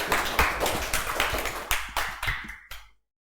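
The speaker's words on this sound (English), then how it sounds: "So clapping for the Harshit" A small classroom audience claps for a student called up for a spoken English presentation. There are about a dozen sharp, fairly loud hand claps in an uneven rhythm, and they stop abruptly after about three seconds.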